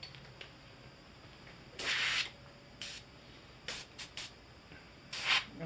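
An airbrush blows air to clean out its nozzle in short sharp hissing bursts, one longer blast followed by several quick spurts, close and loud against a quiet room.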